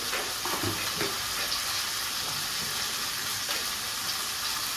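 Half a tomato frying in a pan with sautéed ginger and garlic gives a steady, dense sizzle, stirred with scattered scraping clinks throughout and no voices.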